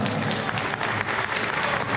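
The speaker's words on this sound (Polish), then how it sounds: "wielkie brawa" Sustained crowd applause fills a sports hall for the third-placed team at the closing ceremony of an indoor New Year football tournament, a thick, even patter of many hands throughout.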